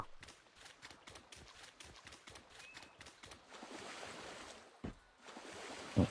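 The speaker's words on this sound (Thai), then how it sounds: "เสียงคลื่นเสียงน้ำนี่โอเคเลยนะ" Ocean waves and moving water in the survival video game Once Human: a steady, washing surf hiss with soft splashes, fairly close and without speech.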